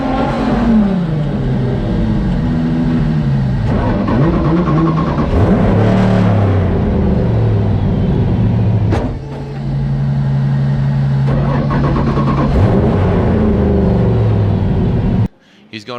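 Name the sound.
Ford Mustang RTR drag racing off the start line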